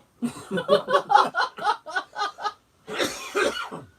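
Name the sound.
cough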